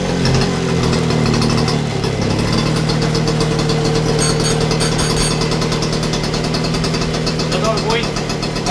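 Motobécane AV89 moped engine running cold, a steady loud idle with rapid chugging pulses throughout, the pitch settling slightly after the first two seconds.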